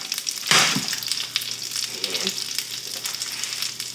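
Shrimp dropped into a hot pan for shrimp and grits, a sudden burst of sizzling and crackling as they land, then settling into a steady frying hiss with faint clatter, no talking.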